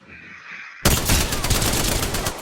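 Gunfire in a fast video game match, with a sudden loud burst of rapid automatic shots that starts after a quiet moment and continues as a dense, close barrage.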